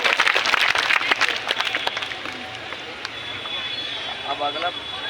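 Audience clapping at a political gathering in Bihar, a dense burst of applause up front that thins and fades over a few seconds, with crowd noise and voices underneath.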